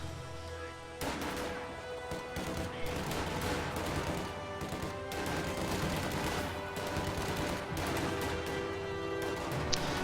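An MG42 machine gun fires during a multiplayer tactical war game, with dense continuous gunfire and explosions carrying on loudly throughout.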